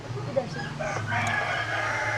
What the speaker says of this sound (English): Oh, you built a little farm there. Chicken run farm, Henna.